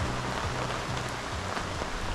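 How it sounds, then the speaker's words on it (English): Rain falls steadily on a wet campsite, with motorbikes parked nearby and a struggling campfire, making a dense, continuous patter that fills the whole stretch with no voices. "It's definitely raining."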